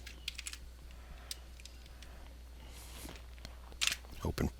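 Computer keyboard clacking as code is entered, several quick clusters of keystrokes spread across the moment, fairly close and moderately quiet, with a louder burst of presses near the end and no talking.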